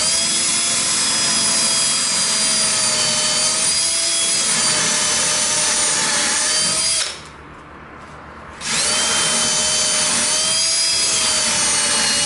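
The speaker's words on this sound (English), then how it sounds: "I can go ahead and drill my conformat holes." A power drill bores confirmat screw holes in cabinet panels, its loud high motor whine running steadily, dropping briefly in a pause near the end, then resuming at full speed.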